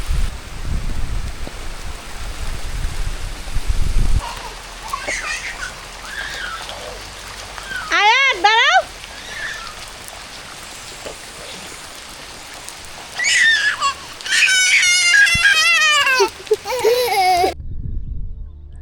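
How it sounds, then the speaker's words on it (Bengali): Heavy rain with strong wind beside a river gives a steady broadband roar in the opening seconds, followed by quieter stretches where birds chirp and call loudly in bursts. "প্রচন্ড বাতাস সাথে বৃষ্টি বৃষ্টি হইতেছে"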